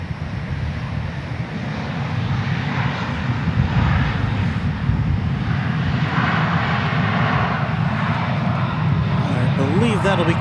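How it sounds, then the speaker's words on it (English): An American Airlines jet airliner roars steadily on takeoff at DFW Airport, a broad sustained engine rumble that holds loud across the whole stretch, with a voice talking over it. "There goes that American jet roaring off"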